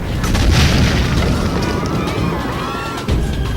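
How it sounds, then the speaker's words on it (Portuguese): Turkish cannons fire on the walls of Constantinople, deep heavy booms with rumbling blasts, loud and close, repeating over a short span. "Se os muros de Constantinopla caírem com o bombardeamento dos turcos"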